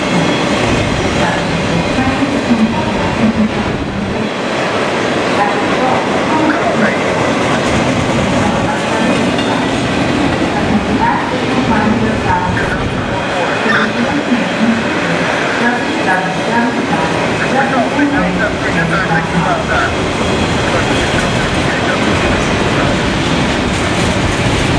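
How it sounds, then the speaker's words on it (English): A train rumbles past close by in Alexandria, Virginia, on track 2, a loud continuous roar with clattering wheels on the rails that holds steady throughout. "Guys, here comes the end of the train."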